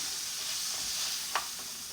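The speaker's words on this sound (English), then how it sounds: "We're gonna saute these up first. Get them soft." Vegetables saute in a pan for smothered pork chops, a soft steady sizzle close by with one brief scrape of stirring.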